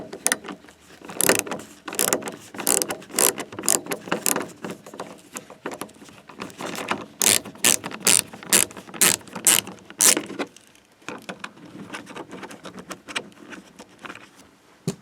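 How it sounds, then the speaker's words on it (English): A star-shaped key works a bolt on the trunk door of a Peugeot 307 SW, giving bursts of rapid metallic clicking and ratcheting close by, then a short lull and more scattered clicks. "Now you need a star-shaped key to remove this bolt and then the whole assembly."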